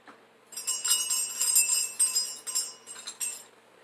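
A small bell rings in a few bright, repeated bursts with sustained shimmering tones. It is close and moderately loud, then tapers off at the end.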